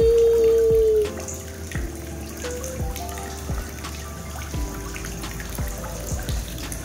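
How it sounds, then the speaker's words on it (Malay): Water sprays and patters steadily from a sprinkler on a children's inflatable pool, a continuous close splashing hiss with small irregular drips, starting with a brief louder burst. "Ada air pancit sekali kan."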